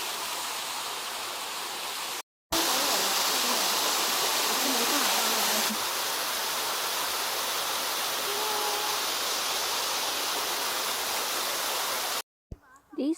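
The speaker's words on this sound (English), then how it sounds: "But here is the waterfall." A steady, broad rushing roar of falling water fills the scene, loud and close, broken briefly by two short gaps.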